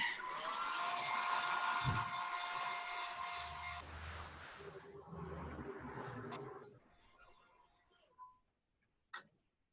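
A hair dryer blows steadily and loudly for several seconds while paint dries on a handmade Christmas ornament, then cuts off, leaving quieter rustling and a couple of brief clicks.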